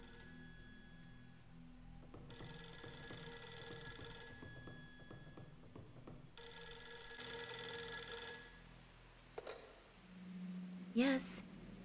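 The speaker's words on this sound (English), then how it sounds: "I can hear the phone ringing" A telephone bell rings in the video game Project Zero 3 in repeated bursts with pauses between, steady and moderately loud, followed by a brief electronic chirp near the end.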